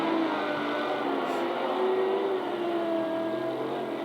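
RevoSlot GT slot cars, including two JPS-liveried cars, race around a slot car track. A steady electric motor whine hums throughout, with rising and falling tonal pitches as the small cars accelerate along the straights.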